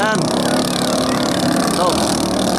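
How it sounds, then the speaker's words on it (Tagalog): Racing motorboat engines roar steadily and loudly at a boat race festival in Mamatid, a dense continuous drone with a voice talking over it throughout. "Talagang agresibo. Antar pa lang ng makina, nakakatakot na."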